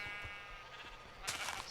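Sheep in the Minecraft Lord of the Rings mod bleat twice, a short call and then a louder, brighter bleat near the end, over quiet game ambience.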